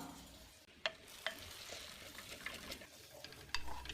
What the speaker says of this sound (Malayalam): ഇനി ഇത് നന്നായിട്ടൊന്ന് ഇളക്കി കൊടുക്കാം